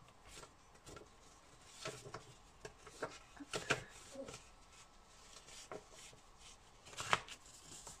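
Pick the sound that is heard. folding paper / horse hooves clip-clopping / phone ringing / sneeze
folding paper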